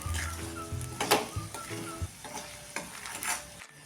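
Instant garlic pickle being stirred in a pan with half a spoon of turmeric and a spoon of chilli powder, a close sizzle broken by spoon scrapes and knocks against the pan, no talking.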